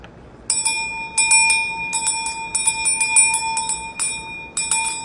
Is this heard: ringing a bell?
yes